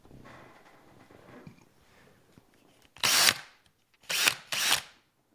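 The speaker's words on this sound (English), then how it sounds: "I got a drill." A DeWalt power drill revs in three short bursts, loud and close, the first about half a second and the next two briefer with gaps between, after a quiet stretch of low room noise.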